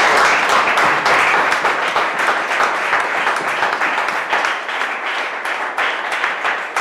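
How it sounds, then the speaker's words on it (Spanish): Sustained applause from a large crowd at a history debate, dense steady clapping that fills the whole stretch without a break. "Yo os pediría un aplauso para."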